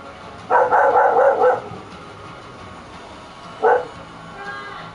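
A puppy barks close by, first in a quick run of several high yips and then in one short yap after a pause, with no voices.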